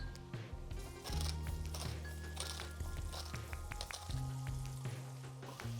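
Onions sizzling softly as they sweat in a pan with salt and pepper, a steady crackle with scattered pops and light scraping, partly under background music.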